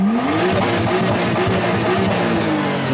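An RB20-engined car revs hard with sharp throttle response and turbo boost, the engine note climbing and falling in quick bursts, loud and close with no talk.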